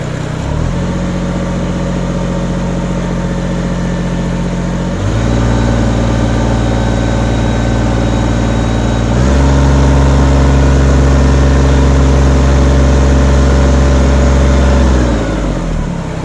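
A Kubota BX compact tractor engine runs steadily and loud, stepping up in revs twice as the throttle is adjusted, then dropping back near the end, with no voices.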